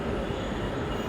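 A Dhaka metro rail train at Farmgate station gives off a steady, loud, low rumble with broadband rail noise that holds even throughout, and no voices are heard.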